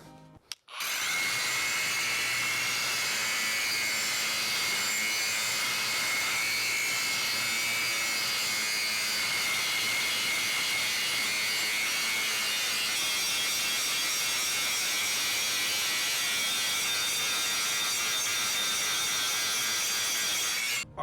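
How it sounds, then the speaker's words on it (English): Ryobi HP cordless angle grinder grinding 1/4-inch steel under downward pressure, a loud continuous harsh whine that runs steadily for about twenty seconds with no talk. "We are going to grind on some 1/4-inch steel"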